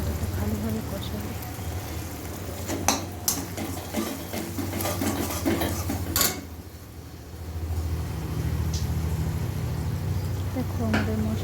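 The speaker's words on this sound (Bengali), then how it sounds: "দেখো আমাদের মশলাটা কষানো হচ্ছে, খুব সুন্দর করে কষানো হচ্ছে" Spice paste with turmeric, salt and a little sugar sautéing in oil for Bengali jhinge aloo posto, giving a steady close frying hiss with a few sharp scrapes and clinks from stirring, under a voice talking.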